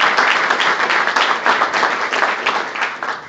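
A county audience at a State of Wilson County gathering claps loudly and close, a dense, continuous round of applause that swells and then tapers slightly toward the end.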